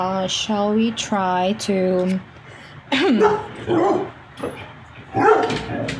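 A dog barks and yips in a few quick bursts near a home computer setup, with someone talking over and between the barks.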